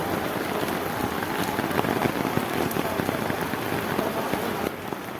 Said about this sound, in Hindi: बारिश के बावजूद भी अभी रुक जाती है, बारिश धीमे हुई है